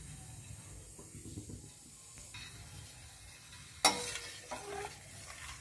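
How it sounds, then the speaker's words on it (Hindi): Ground rice powder being stirred into boiling milk for kheer in a pot, a soft steady scraping and simmering hiss with one sharp clink of the spoon partway through, fairly quiet throughout. "इसको अच्छी तरह से मिक्स कर लेंगे और इसको चलाते रहेंगे"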